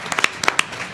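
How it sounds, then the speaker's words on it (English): Scattered hand claps from an audience at a Board of Education meeting, a handful of separate sharp claps that have not yet merged into full applause. "I'd like to give a round of applause for"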